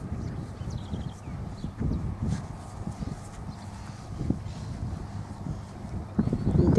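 A thick-chested chestnut Quarter Horse cross walks on natural ground, its hooves clip-clopping in an uneven, moderately close rhythm over light wind noise, with a louder shuffle at the very end.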